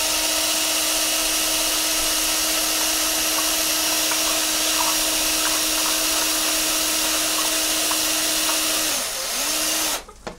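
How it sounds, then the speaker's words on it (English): A close, loud electric drill mixing homemade black gesso whines at a constant pitch for several seconds, then slows and winds down before stopping with a clatter. "Now I've got a drill, I've got a man's tool, and I'm going to mix that together"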